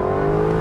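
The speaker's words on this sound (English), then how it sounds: "listen to that thing as it shifts" A loud, close V8 engine of a 2022 Lexus LC 500 Convertible holds a steady revving roar with a strong, buzzing tone during a paddle-shifted gear change.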